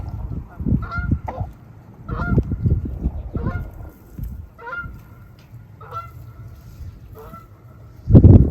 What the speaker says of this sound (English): Got some geese flying overhead.